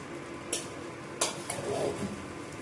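Food frying in a pan with little oil is stirred, steady soft sizzle underneath and a few sharp spatula scrapes and knocks against the pan, close by with no talk.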